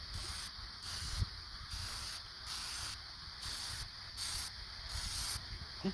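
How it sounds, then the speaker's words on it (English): An aerosol can of rubber grip coating hisses onto hand tools in repeated short bursts, about six sprays in a steady on-off rhythm, close and fairly loud. "Spray them again."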